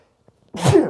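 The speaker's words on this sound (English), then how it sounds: "with that sneeze, I suppose we'll just end before another one comes because there's usually two" A single sharp sneeze bursts out close and loud after a near-silent moment.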